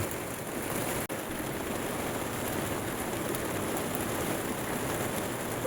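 Steady, dense rain pours continuously, a broad even hiss with one brief dropout near the start; no voices.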